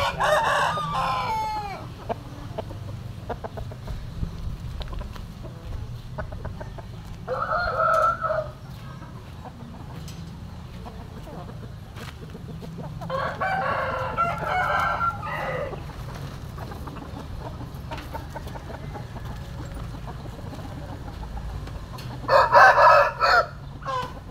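Fighting roosters crow several times, each call spaced apart, loud and nearby, over a low steady background hum.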